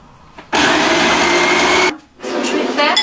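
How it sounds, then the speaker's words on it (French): An electric blender whirs loudly as it mixes apple tart ingredients with cinnamon and almond pulp. It runs in one long steady burst, pauses briefly, then starts again. "c'est un mixeur qui fait 2, donc vous inquiétez pas, ça fait un peu de bruit, mais on va mixer tout ça"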